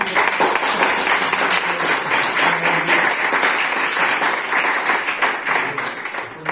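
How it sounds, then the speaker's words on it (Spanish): Applause from a seated audience at a talk event, dense sustained clapping that fills the whole stretch at steady loudness, tapering slightly at the end. "le damos un aplauso"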